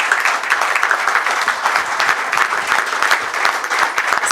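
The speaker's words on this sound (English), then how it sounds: "We need a standing ovation, isn't it?" Seminar audience in a hotel hall giving a standing ovation, dense continuous clapping throughout, steady and fairly loud with no voices standing out.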